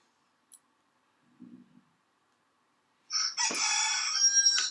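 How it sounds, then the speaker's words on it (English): A cockerel crows once as a sound effect, a loud, clear, drawn-out cock-a-doodle-doo after a couple of faint clicks and a short low thud, standing alone with no talk. "And that's the cockerel, which is Rob."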